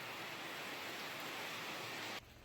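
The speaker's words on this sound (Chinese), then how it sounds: "天黑了，开始下雨了" Autumn rain falls steadily after dark in a riverside town on the Gannan highlands, a dense, even hiss that cuts off abruptly near the end.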